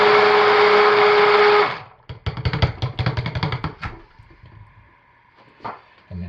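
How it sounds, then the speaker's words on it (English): A stick blender mixing cold process soap batter whirs loudly and steadily for about a second and a half, then stops, followed by a burst of rapid knocking and clattering and a few scattered taps. "I'll give it a good stick blend, even with the fragrance"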